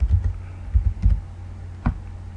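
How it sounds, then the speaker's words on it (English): A few quick taps on a computer keyboard sound close and soft in a quiet room, irregular clicks over a low background hum. "Right now we're gonna do the heading and just start typing."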